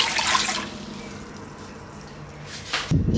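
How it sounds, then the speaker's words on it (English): Warm water, 300 ml, poured into a bowl for pizza dough, giving a steady soft liquid wash that fades after the first half second, then a brief louder splash near the end. "first over here I'm adding in 300 ml of warm water."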